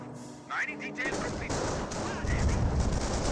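MG42 machine gun fire in the Company of Heroes strategy game, dense rattling bursts and battle noise filling the clip, with a commentator's voice mixed in.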